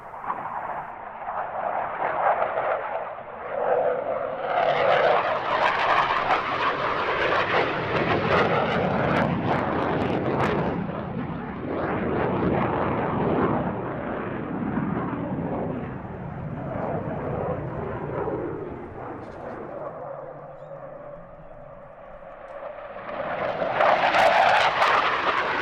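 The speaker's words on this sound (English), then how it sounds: "Swedish name for the Hawker Hunter Mark 50, which the Swedes operated between 1955 and 1969" Hawker Hunter Mark 50 jet flying a display at the Gdynia AeroBaltic Airshow 2019: a loud, sustained jet roar that swells and fades as it passes, dips briefly, then builds again.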